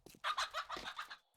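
Chickens in the 7 Days to Die video game, several types kept for egg farming, give a quick run of close, loud clucks and squawks in a couple of bursts over about a second.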